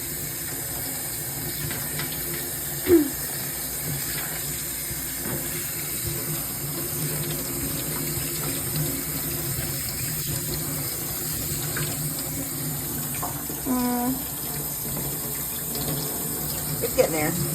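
A kitchen tap runs steadily into a sink while rice is rinsed, a constant close hiss of water with occasional splashes and clinks, and a voice speaks quietly at times.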